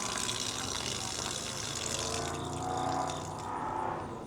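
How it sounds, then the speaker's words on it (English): A FlexTail Tiny Shower camping shower runs on high, its water stream hissing steadily at close range with a faint pump hum underneath. "We're going to go ahead and turn it on high. And a really solid stream."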